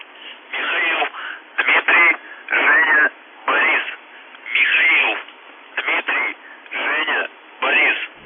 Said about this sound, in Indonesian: Suara misterius ini adalah suara gelombang pendek di radio dengan frekuensi 4625 kHz